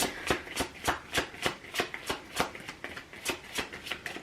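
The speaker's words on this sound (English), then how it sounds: "Clarify the Judgment card." Tarot cards are shuffled in a quick, even rhythm of about a dozen crisp slaps and riffles, close and fairly loud, with no speech over them.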